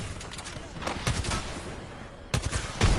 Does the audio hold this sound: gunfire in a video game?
yes